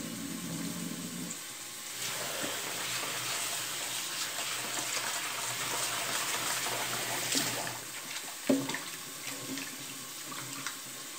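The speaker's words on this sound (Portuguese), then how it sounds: "E aí vou escorrer a água do arroz e dar uma lavada nele." Running tap water pours steadily over brown rice being drained and rinsed in a kitchen sink, a continuous close splashing rush with brief clatters and a sharp knock near the end.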